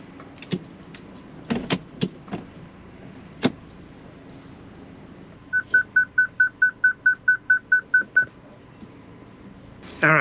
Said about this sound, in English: It was beeping and yelling, as you could hear.